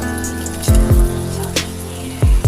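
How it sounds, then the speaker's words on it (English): Canned Rotel tomatoes with their juice poured from the can into a dip, giving a few quick wet splashes and plops in close succession. "we're going to add our Rotel tomato"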